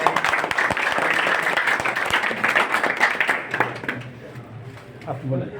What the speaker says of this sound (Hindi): कम से कम तालियों से स्वागत करिए